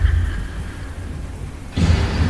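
Rain falls steadily with a low thunder rumble rolling underneath, then a louder burst of storm noise swells near the end; no one speaks.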